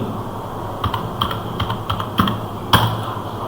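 A search term typed on a computer keyboard, with a quick irregular run of close, crisp key clicks over a low background hum and no talk.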